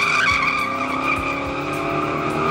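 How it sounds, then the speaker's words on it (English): A 420-horsepower Elko with a Yank converter and a Gearstar 4L60E transmission does a one-wheel peel. A loud, continuous tire squeal rides over the roaring engine close up for the whole stretch, with no talking. "It still does a one-wheel peel"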